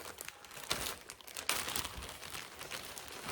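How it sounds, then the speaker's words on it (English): Fresh lettuce being cut on a board for taco bake toppings, giving close, crisp crinkling and crunching cuts in an irregular rhythm, with no talk. "I'm going to cut my lettuce"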